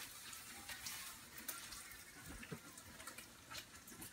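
Water gushes and trickles as washed spring roll ingredients drain in a kitchen, a faint, steady splashing flow with small irregular spatters and no voices.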